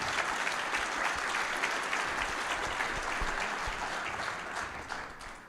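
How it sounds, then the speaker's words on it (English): An audience at a post-quantum cryptography conference applauds a speaker steadily, a dense wash of many hands clapping that holds for several seconds before tapering off slightly. "a big applause for Renee and"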